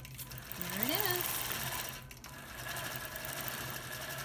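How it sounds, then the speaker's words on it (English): A long arm quilting machine on a quilting frame runs with a steady mechanical whir and rising pitch, set up for edge-to-edge quilting; a voice speaks over it. "One big giant sewing machine."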